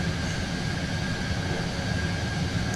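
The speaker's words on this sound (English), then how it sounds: "Oh, I had it in afterburner going." An F-14 Tomcat's jet engines run in afterburner in Microsoft Flight Simulator 2020, a steady, continuous broadband roar with no change in level and no voices.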